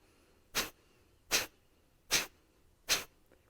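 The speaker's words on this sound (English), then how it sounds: "how it sounds is like you're blowing your nose into a tissue" Kapalabhati yoga breathing: four sharp, forceful nasal exhalations, evenly spaced under a second apart, close and breathy like blowing the nose, with quiet passive inhales between and no talk.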